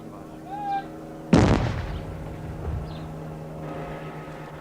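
A controlled explosion of suspected bomb bags during bomb disposal work in Ulster sets off a single loud, heavy boom that rolls into a rumbling decay, heard from a distance outdoors with faint voices nearby.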